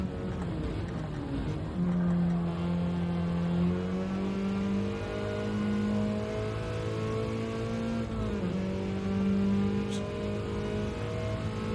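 A race car engine in a racing video game on the Watkins Glen long course holds a sustained, loud drone, rising and falling in pitch through gear changes and a chicane, with no talking over it.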